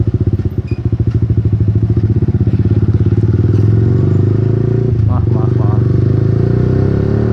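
A Yamaha Xabre motorcycle engine throttling while being ridden: a loud, close, rapid pulsing thrum that steadies into a sustained drone, with wind noise and a brief voice around the middle.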